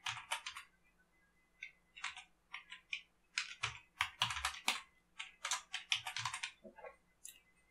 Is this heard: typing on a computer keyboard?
yes